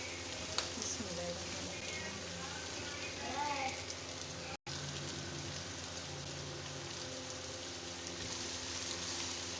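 Cauliflower florets and onion stir-frying in a pan, a continuous soft sizzle and crackle with faint spoon scraping, steady and close throughout.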